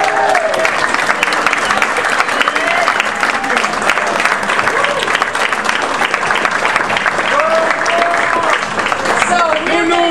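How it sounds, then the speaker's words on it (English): A large audience at an ethics debate competition claps loudly and steadily for the competing teams, a dense sustained wave of applause with scattered cheers and voices mixed in throughout. "Can we have a big round of applause for all of our teams?"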